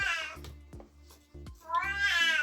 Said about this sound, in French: t'as fini de ronchonner, mon chat